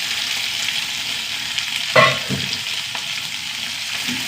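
Green chilies sizzle steadily in hot oil in a pan alongside mustard seeds, dried red chilies and curry leaves, with a brief clattering stir near the middle and no talking.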